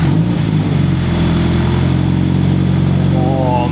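A Toyota 86 GTS with an X-Force catback exhaust, muffler and resonator deleted, holds a loud, steady, droning rev close by, with no talk over it.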